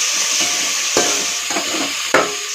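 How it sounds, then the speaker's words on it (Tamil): Ghee rice with tomato being stirred in a pot, with a steady hiss and a few distinct scraping strokes of the spoon at intervals, close and fairly loud, no talking. "அடி நல்லா கிளறி விட்டுக்கோங்க"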